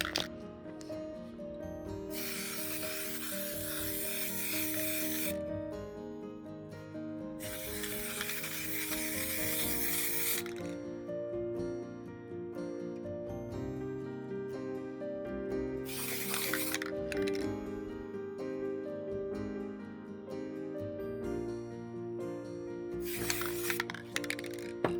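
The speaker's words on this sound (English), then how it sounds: "let me start by first spraying the base color." An aerosol spray paint can hisses in several long bursts of base color onto a phone cover, with short pauses between them, over steady background music.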